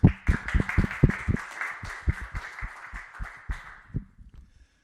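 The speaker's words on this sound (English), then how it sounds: "let's give her a good round of applause" Audience round of applause for a guest, a strong woman from the South African Guild of Editors, at a shop talk session, with sharp, fairly close claps in an uneven rhythm over a steady tone, fading out at the end.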